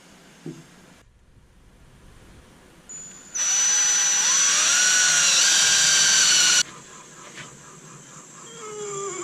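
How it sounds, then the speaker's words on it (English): A power drill bores a screw hole into a piece of wood on a woodturning setup. It runs for about three seconds as a loud, high whine between quieter background noise. "let's drill a woodworm screw hole there"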